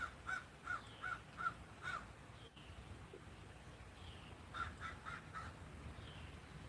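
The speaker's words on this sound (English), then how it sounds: "We're listening to the birds sing." Crows caw outdoors in short repeated bursts, a series of harsh calls, a pause, then another volley, moderately distant over faint background noise.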